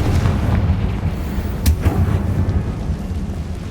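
A Confringo fire spell blasts in Hogwarts Legacy, a loud, deep, thunderous rumble that holds throughout, with a sharp crack partway through and no voices.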